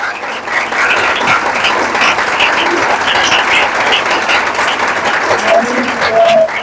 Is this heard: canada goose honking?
no